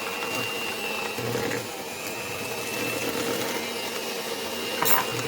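An electric mixer beats vanilla cupcake batter with added milk for traditional South African cupcakes, a steady close motor whir that holds an even level throughout with no talking.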